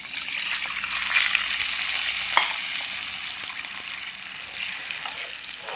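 Tamarind water is poured into a hot pan of tomato dal, giving a steady hiss of sizzling and bubbling that holds at a constant level with faint clinks, with no talk over it.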